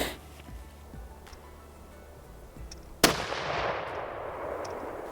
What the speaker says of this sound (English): We fired a few rounds to make sure my dad was dialed in and we were ready for the hunt